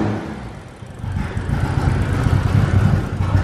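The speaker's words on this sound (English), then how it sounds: "dude, you gotta hear the GTR" A Nissan GT-R engine runs with a steady, broad low rumble that swells noticeably after the first second and then holds at a strong, close level, with no talking.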